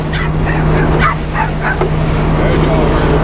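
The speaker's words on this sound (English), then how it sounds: "As y'all heard, my little dog Nacho, he likes to eat everything that I eat" A small dog yips, barks and whimpers for food in a kitchen during cooking, with repeated short, close, high calls alongside a person's voice.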